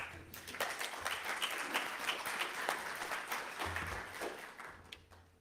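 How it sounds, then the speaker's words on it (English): An audience at a talk gives a warm, fairly quiet round of applause, a dense and even clatter of clapping that fades out at the close. "a warm round of applause for Yarik"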